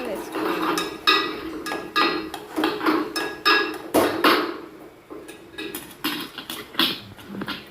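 A spoon clinks and scrapes against a pan in quick, uneven strokes as chilli powder is stirred into a mushroom and broad bean curry, with a voice talking over the stirring.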